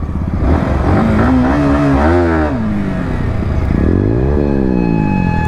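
A Bajaj Pulsar N160 motorcycle revs hard during a wheelie, its engine note loud and close, climbing and falling in repeated swells.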